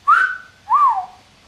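Two short whistled notes, close and clear, each sliding slightly downward in pitch with a brief pause between them.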